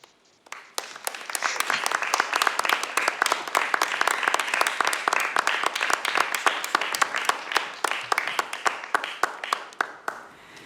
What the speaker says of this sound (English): please, one more round of applause for Auntie Jeanine Leane